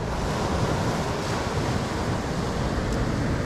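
Sea waves wash steadily onto a pebble beach at Lazarevskoye, Sochi, as the sea calms. The surf roars as a continuous loud, close rush with wind noise and no voices.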